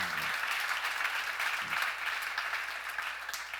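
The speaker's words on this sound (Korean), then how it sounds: "그런 거면 박수 나와주세요" A church congregation claps together in a dense, even patter of applause that sounds somewhat distant and subdued and lasts the whole stretch.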